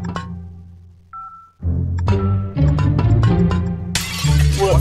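A vase smashes in the video game Dude Stop: a sharp shattering crash ringing into bright tinkling debris, followed by further clattering breaks and a final loud burst of shards, all close and loud.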